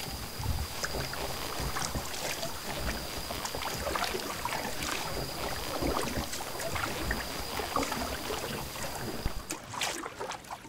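A fishing boat glides steadily across water at night with a constant engine-and-wind rush, a thin high whine running through it until a brief shift near the end.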